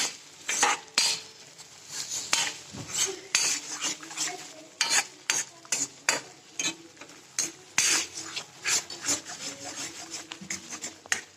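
A spoon scrapes and clinks in a pan while chickpea masala roasts, repeated irregular stirring strokes close up with a faint sizzle underneath and no talk.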